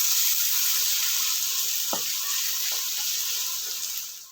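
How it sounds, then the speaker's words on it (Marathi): Onion sautéing in a pan for a Marathi tomato chutney gives a steady, bright sizzle throughout, with a few soft spatula scrapes and stirs breaking through near and close. "कांदा आपण यामध्ये आता परतून घेणार आहे"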